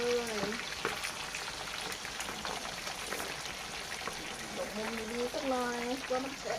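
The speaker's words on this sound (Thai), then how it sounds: "ทอดเลย" Faint sizzling and crackling of pre-boiled pork deep frying in hot oil in a small pan, with a voice speaking intermittently over it.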